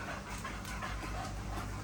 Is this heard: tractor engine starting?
no